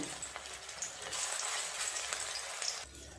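Prawn fritter batter hits hot oil and fries with a steady, soft hiss and crackle, close and fairly quiet, with no voices.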